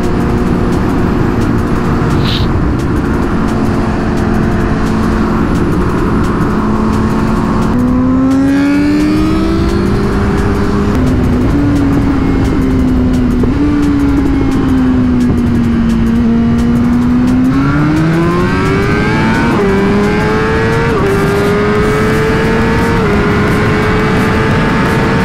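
Superbikes including a Kawasaki ZX10 rev hard while racing, the engine pitch climbing and dropping in repeated shifts through one loud, continuous, close roar with no talk.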